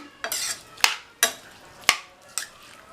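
A spoon stirs radish with turmeric and salt in a pan, making five distinct scraping strokes at an even, unhurried rhythm, close and clear.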